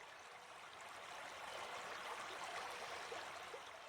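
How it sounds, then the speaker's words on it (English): Steady river water flowing past in a calm outdoor setting, a continuous soft rushing and trickling wash that stays even and close, with no voices. "you can hear the soothing sound of the water as it flows steadily past"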